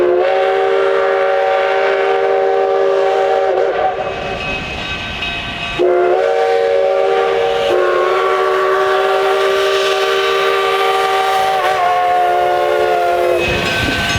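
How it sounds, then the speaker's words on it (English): A coal-fired K-class narrow-gauge steam train arrives at the Durango depot in Colorado, its loud multi-tone whistle sounding in long repeated blasts with brief pauses, wheels and rail clatter rumbling beneath, close and prominent. "the final coal-fired train rolled into the Durango Depot across 6th Street"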